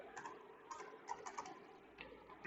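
A code comment is typed on a computer keyboard, quick irregular bursts of key clicks, fairly close and quiet, with no voice over them.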